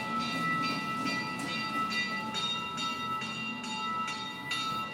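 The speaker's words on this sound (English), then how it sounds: "The bells are going." Bells ring repeatedly in a steady, evenly spaced pattern, each strike leaving a lingering metallic tone over a dense, constant background rumble. The setting is an aircraft museum. No one talks.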